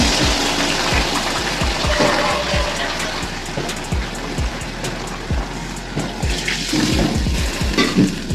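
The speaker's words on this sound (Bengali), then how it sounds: "আমি পরিমাণ মতো জল দিয়ে দিলাম" Water poured into a pot of cooking taro curry, a continuous close splashing gush with bubbling underneath, loud and steady throughout.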